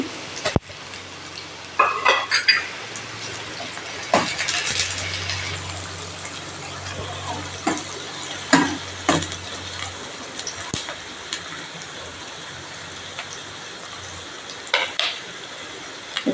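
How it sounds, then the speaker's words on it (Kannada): Onions frying in hot oil in a pan, a soft continuous sizzle under repeated clinks and scrapes of a spoon against the pan, close and fairly quiet. "ಈಗ ಇಲ್ಲಿ ಬಾಣಲಿಗೆ ಸ್ವಲ್ಪ ಎಣ್ಣೆ ಹಾಕಿ ಎಣ್ಣೆ ಸರಿಯಾಗಿ ಬಿಸಿ ಆದಮೇಲೆ ನೀರುಳ್ಳಿ ಹಾಕಬೇಕು"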